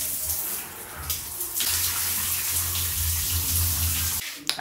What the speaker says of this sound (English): So right now, let me take a shower.